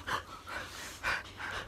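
A puma (cougar) breathes heavily right up close, with four or five breathy huffs and pants in an uneven rhythm.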